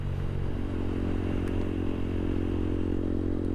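A motorcycle's exhaust rumbles steadily and loudly while it is ridden on the road, a continuous engine drone with a faint rattle over it.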